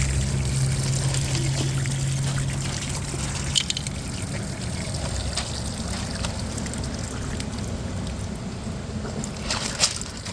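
Rainwater from an IBC tote rainwater system pours out in a steady, continuous rush with a few small knocks, close and alone.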